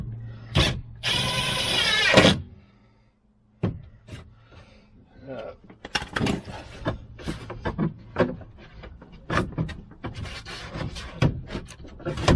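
Bolts being fed in by hand while fitting a fog light on a 2016 Hyundai Tucson, heard as close, scattered clicks, scrapes and rubbing of metal against plastic, with a brief louder rattle near the start.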